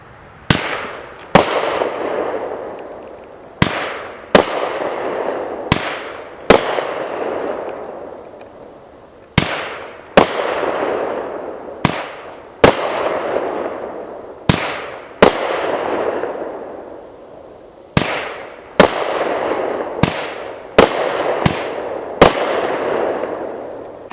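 Fireworks fired from an electronic firing system, a loud outdoor series of about twenty sharp bangs at uneven intervals, each followed by a decaying crackle and echo, with no voices.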